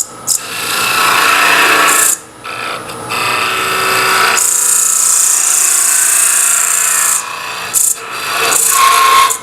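A lathe tool cuts a spinning redwood Christmas ornament, giving a loud, harsh scraping hiss that runs continuously with brief pauses near two and eight seconds.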